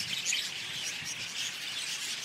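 Several small birds chirp and tweet continuously in the background, a steady busy twittering with no talking.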